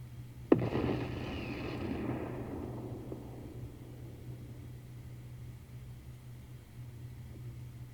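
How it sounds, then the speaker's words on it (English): Missile launches in the space strategy game Endless Space 2, a single sharp burst followed by a roaring, whooshing rumble that fades away over several seconds. "There's going to be a bunch of missiles coming at him."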